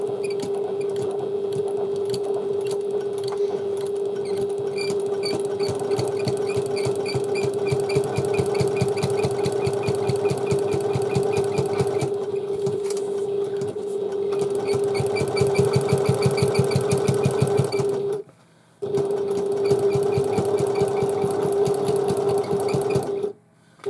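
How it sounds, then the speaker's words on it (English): A sewing machine stitches along the edge of a domed handbag's fabric, running steadily and closely with a dense rapid needle rhythm, briefly stopping near the end before starting again. "take it to the machine and stitch it"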